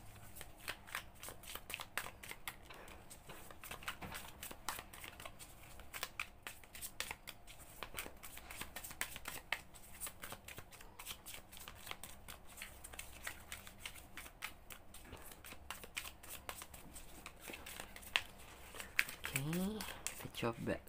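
Tarot cards are shuffled in a long, steady run of rapid riffling and flicking clicks, quiet and close, with faint crinkles throughout and a little speech near the end.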